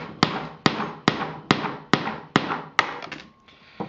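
Seven sharp hammer strikes on a chisel, evenly spaced about half a second apart, knock a tight non-O-ring side plate off a motorcycle chain; close, loud metallic blows, each ringing briefly, then a faint tap.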